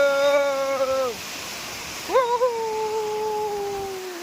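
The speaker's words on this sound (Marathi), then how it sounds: "ये बघा नजारा क्या वॉटरफॉल है" A steady rush of falling water from a small waterfall at Harihar Fort, with a drawn-out, humming voice-like tone sliding over it near the start and again in the second half.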